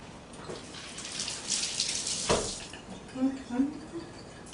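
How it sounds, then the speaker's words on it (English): Hands rinsed under a running kitchen tap, a soft steady hiss of flowing water with brief splashes, faint and close, while a person talks over it. "I'm going to rinse my hands again."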